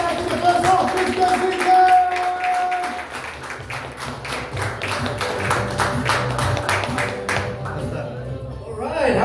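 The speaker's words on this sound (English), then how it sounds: "I need a big round of applause. Everyone put your hands together for the last act of the first half." Applause from an open mic comedy audience rises into a dense, steady patter of clapping with scattered cheers, then thins and fades toward the end, over an announcer's voice.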